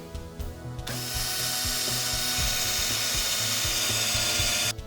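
A power drill bores a larger hole into a wooden chair for a screw while restoring a loose handle, a steady whirring grind running close and continuous for about four seconds, starting and stopping abruptly.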